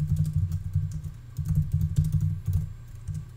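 Rapid keystrokes clatter on a computer keyboard, a close, quick run of clicks with brief pauses between bursts.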